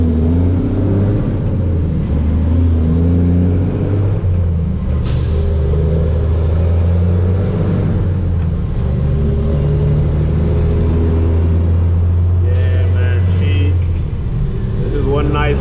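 Dump truck engine rumbling low and steady while driving, a continuous deep drone with some mid-range mechanical noise, with a person talking over it throughout.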